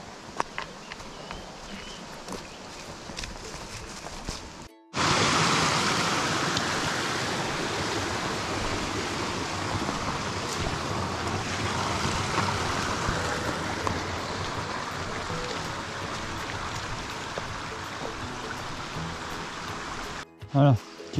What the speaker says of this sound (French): Un petit sentier à côté d'un ruisseau.